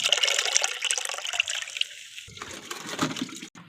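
Water pours and splashes from a mug into a bucket, close by, tapering off to a trickle and a few gurgles near the end.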